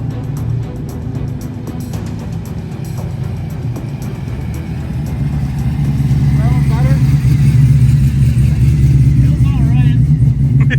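A cammed 6.0 LS V8 in a regular-cab Chevy truck roars under hard throttle, a loud deep rumble swelling louder partway through, with people talking over it.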